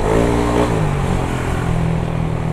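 A Yamaha NMAX motor scooter with a freshly refreshed engine runs close by, its loud, steady engine drone holding throughout with a brief rev near the start and no talking.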